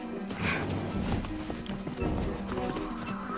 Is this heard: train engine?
no